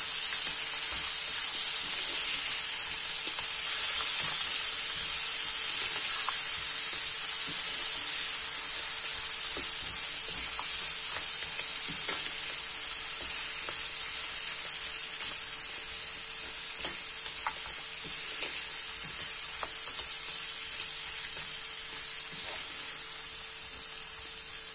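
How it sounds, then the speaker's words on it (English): Frozen mixed vegetables sizzle and fry steadily in a hot pan with spices as they are stirred, a continuous close hiss with occasional soft scraping of the spoon, no voices. "Mix it up well so that the veggies are coated in the spices."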